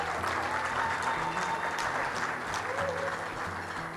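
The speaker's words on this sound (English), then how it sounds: "I want to give a round of applause" Audience applause at a Whittier, California State of the City event, a steady dense patter of many hands clapping at moderate level, continuous throughout with a faint murmur of crowd underneath.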